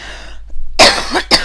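A sick woman coughs twice in quick succession, loud and close, the bursts harsh and breathy after a brief quiet moment.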